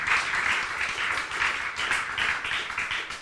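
A church congregation gives a round of applause, with rhythmic group clapping that pulses in loose waves, fairly close and steady for a few seconds.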